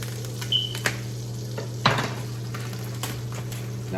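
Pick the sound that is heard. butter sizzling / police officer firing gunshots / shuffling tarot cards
butter sizzling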